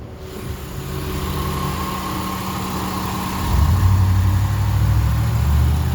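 A 2000 Honda Accord's 3.0 engine idles steadily under the open hood, a smooth continuous hum that rises a little in level partway through, with no voices.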